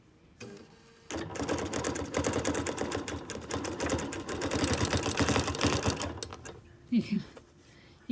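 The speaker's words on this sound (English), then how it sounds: "You can hear when we go from where the canvas is sitting to where there isn't any canvas underneath it, a change in tone." A sewing machine rapidly stitching through canvas in a dense, fast mechanical chatter for several seconds, its tone shifting as the needle passes off the canvas; it starts and stops, with brief voice sounds near the end.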